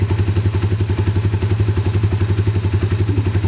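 A Honda CB150R motorcycle with a WRX GP3 full-system aftermarket exhaust runs steadily nearby with a deep, bassy note and a rapid, even pulsing rhythm.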